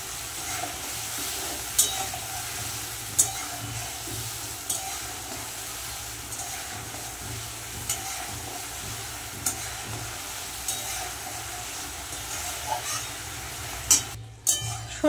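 Mustard paste frying in a pan, made for a curd and pointed gourd curry, keeps up a soft continuous sizzle with scattered small ticks and a stirring scrape near the end. No voices are heard.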